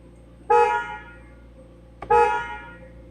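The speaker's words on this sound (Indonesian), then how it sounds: "Pengen dengerin klaksonnya McLaren nggak sih? Klaksonnya kayak gini bunyinya." Two short honks of a McLaren 750S horn, loud, close and slightly off-key, with a pause of about a second and a half between them and no talk.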